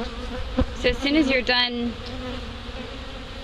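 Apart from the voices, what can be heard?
bees buzzing around hive boxes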